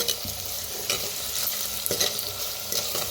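A paste of ground garlic and green chilli fries and sizzles in a pan while being stirred. The sizzle is a steady, close hiss broken by repeated scraping strokes, with no talk.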